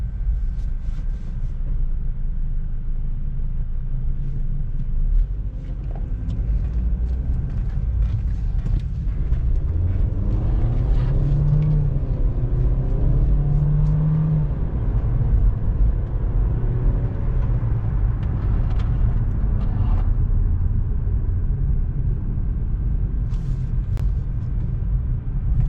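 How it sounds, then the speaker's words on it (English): A Buick Encore on a short test drive after a water pump and thermostat replacement, its engine and road noise forming a steady low rumble from inside the cabin, continuous throughout with faint tonal whine in the middle. "So we're just going for a small drive, for a little drive out."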